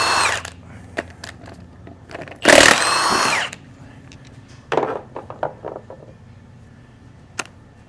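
Power tool, likely an impact wrench, loosening tight lug nuts on an aluminum wheel: a loud burst of about a second amid scattered clanks and short mechanical knocks, with brief speech nearby.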